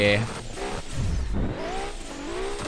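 A car drifts with its tires sliding and squealing while the engine revs, and someone talks over the sound throughout.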